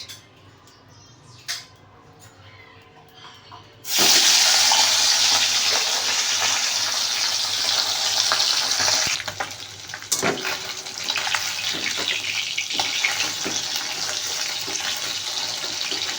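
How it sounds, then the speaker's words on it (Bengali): Tengra fish hit hot mustard oil in a pan after a few quiet seconds, setting off a sudden loud, dense sizzle that keeps hissing and crackling steadily to the end with no talking. "মাছগুলোকে ভালো করে উল্টে পাল্টে ভেজে নেব।"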